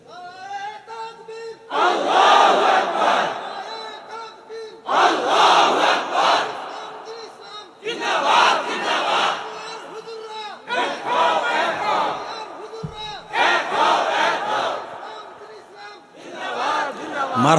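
A large crowd at a Bangladeshi religious sermon gathering roars the takbir chant in repeated loud bursts, roughly every three seconds, each swell of massed voices following a brief pause.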